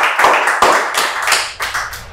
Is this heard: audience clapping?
yes